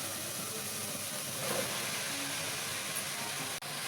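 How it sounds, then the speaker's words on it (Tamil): Mushrooms sizzle in hot oil while being sautéed for mushroom biryani, a soft, even hiss that runs steadily throughout, with a brief dip near the end. "காளான் கொஞ்சம் வதங்கணுங்க."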